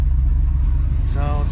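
A 1968 Oldsmobile 442 with a 4-speed manual, rusted hood, runs steadily just after starting, a close low rumbling idle with a brief higher whine near the end.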